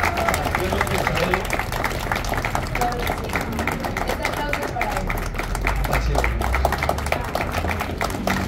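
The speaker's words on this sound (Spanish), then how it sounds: "Un fuerte aplauso." Steady, dense applause from a studio audience at a tribute to Chabelo. Thick clapping fills the whole stretch at an even, loud level.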